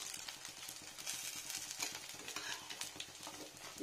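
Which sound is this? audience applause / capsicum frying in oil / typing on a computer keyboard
capsicum frying in oil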